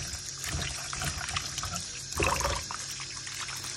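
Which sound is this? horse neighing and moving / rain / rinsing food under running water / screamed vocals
rinsing food under running water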